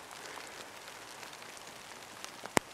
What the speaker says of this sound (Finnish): kaatamalla sataa vettä